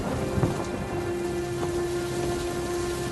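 Steady rain and rumbling thunder in a cartoon storm scene, a dense even downpour with a low thunder roll and a steady tonal hum beneath.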